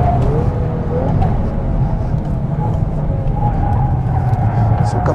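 A 2022 VW Golf R slides on all four wheels on a race circuit, its engine droning loud and steady throughout while a faint tyre squeal wavers above it and a voice talks over the noise.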